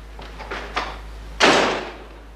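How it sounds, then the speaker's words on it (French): Several small rattles and clicks of a handle lead into a hard, forceful door slam in a French radio drama, sharp and near, then a short fading decay. "Il claque encore la porte, il a l'air furieux."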